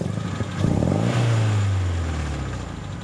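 A car engine with a ticking exhaust leak is revved once, a loud rising burst of engine noise that sweeps down and settles back toward idle.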